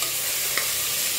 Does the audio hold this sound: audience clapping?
no